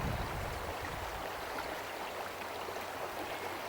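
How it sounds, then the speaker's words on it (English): A naturally occurring stream fed by drain water from nearby fields flows steadily outdoors near Calm's Hill in Crieff, a continuous broadband rush and trickle heard close and alone for the whole stretch. "naturally occurring stream, this, and collects a lot of drain water from the fields and stuff"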